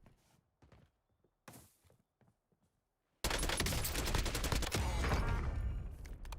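Sudden loud, sustained burst of automatic gunfire in Call of Duty Warzone, erupting after quiet thuds and footsteps and continuing at close range.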